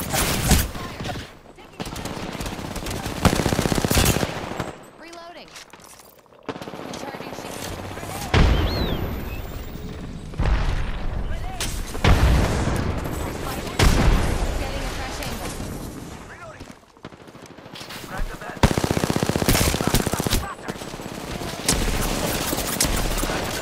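Video game machine gun fire rattles in long, loud, sustained bursts with brief gaps, mixed with explosions and a voice speaking over the action.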